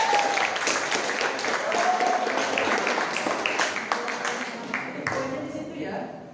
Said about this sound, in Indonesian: tepuk tangan untuk yoga.